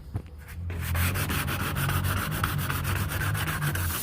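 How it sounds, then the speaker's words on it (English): Continuous hand sanding on the door jambs and door frames of a squarebody truck during rust repair, a close, steady scratching with a regular back-and-forth stroke rhythm and no voices. "some more sanding on the door jambs and the door frames on the driver's, or excuse me, passenger side there"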